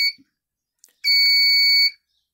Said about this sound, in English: So this buzzer is active.